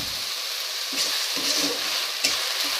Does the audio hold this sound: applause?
no